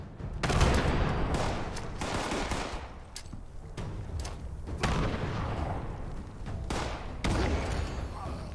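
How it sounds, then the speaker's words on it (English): Rapid bursts of gunfire and booming blasts from grenades going off in the Fallout 76 video game, loud and continuous with repeated sharp onsets, no talk over them. "Eat a crap ton of grenades."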